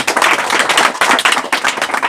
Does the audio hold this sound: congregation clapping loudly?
yes